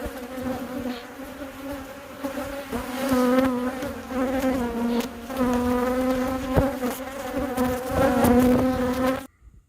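Honey bees buzzing around a hive during a June beehive check, a dense, steady droning swarm close by, rising and falling slightly throughout before cutting off abruptly at the end.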